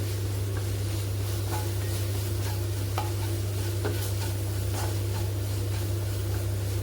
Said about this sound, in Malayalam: അപ്പോൾ ഒന്ന് മിക്സ് ആക്കാം.